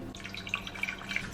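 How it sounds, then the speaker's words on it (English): Water poured from a container into a cooking pot in a home kitchen, a steady splashing trickle with small drips running close by, with no talking. "Just put a little bit of water in the pot"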